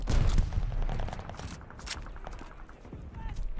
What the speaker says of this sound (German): Am Spawn explodiert alles.